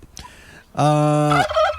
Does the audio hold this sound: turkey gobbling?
yes